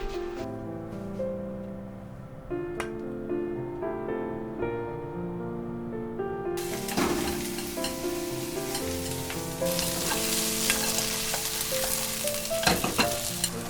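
Food fries in a frying pan while being stirred, a continuous sizzle with scraping and sharp clinks, soft and muted at first, then abruptly louder and brighter with bursts of hissing toward the end.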